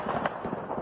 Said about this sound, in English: we also got to hear the sounds of gunfire in this area as well around Pokrovsk.